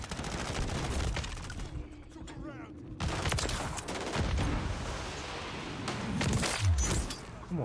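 Rapid gunfire in a Call of Duty match on the Shipment map, dense bursts of shots crackling almost continuously and loud, with brief lulls and a voice talking over the action.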